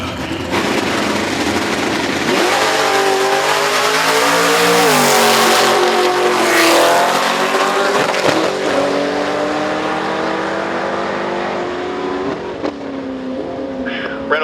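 Drag racing car on a quarter-mile strip roars as it accelerates hard, engine pitch climbing through gear changes before easing off near the finish, loud and close with an announcer talking over it.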